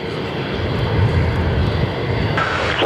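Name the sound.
aircraft taking off from Perth Airport runway 03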